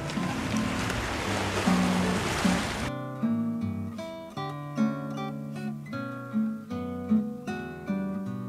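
Sea waves at the Naruto Strait in Tokushima give a loud, broad wash for about three seconds before it cuts abruptly to music.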